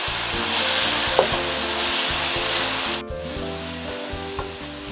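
Cassava leaves stir-fried with salt, sugar and mushroom stock in a hot pan, a bright continuous sizzle over rhythmic scraping strokes of a spatula, the hiss dropping sharply partway through as stirring carries on.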